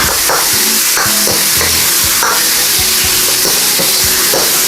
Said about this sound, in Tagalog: stir lang po natin ng ating wok